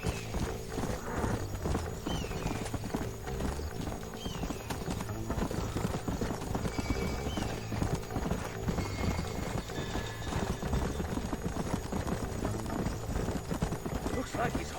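Horses clip-clop steadily in the Red Dead Redemption video game, with a whinny mixed into a busy game soundtrack and voices talking over the hooves.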